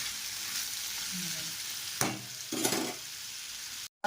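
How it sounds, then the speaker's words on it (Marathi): Potatoes fry in oil with a steady low sizzle, broken by a couple of sharp scrapes and clatters of a spatula stirring the pan, no talking. "बटाटे आपल्याला भाजून घ्यायचे तेलामध्ये"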